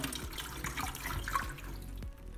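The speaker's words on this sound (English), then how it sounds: "Okay, it's filling the water." Water running and splashing as it fills a Dolphin mini ice maker machine, a soft, close trickle with small gurgles lasting a couple of seconds.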